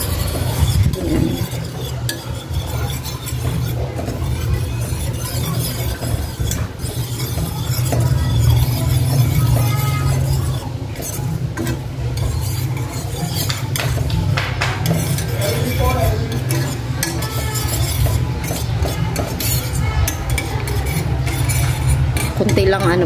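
Chopped garlic, onion and ginger sauté in a pan for chicken teriyaki, with a steady frying hiss, a spoon scraping and clinking against the metal, and a voice talking over the cooking.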